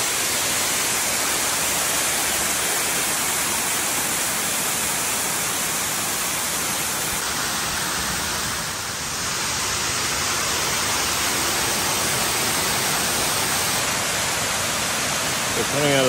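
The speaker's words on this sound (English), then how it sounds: "It's still in concrete, but textured for the water to drip on." Water drips and trickles down a textured concrete water wall at a Tadao Ando museum in Osaka, making a steady, dense, hiss-like wash that holds at an even level throughout, with no talk.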